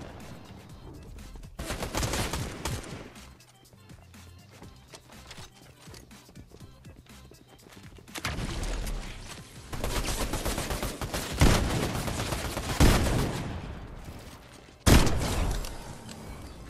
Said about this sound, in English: This sniper is OP, bro.